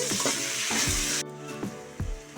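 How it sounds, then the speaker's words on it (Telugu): Crushed garlic and thinly sliced tomatoes fry and sizzle steadily in a pan for a tamarind fish curry, with a few stirring scrapes and clinks breaking through the hiss. "ఇదంతా మంచి గోల్డెన్ బ్రౌన్ కలర్ వచ్చేంత వరకు ఫ్రై చేసుకోవాలి"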